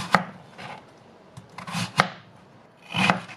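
A knife chops 350 g of white radish into small cubes on a board, giving a few close, crisp thuds at an uneven pace with short pauses between them.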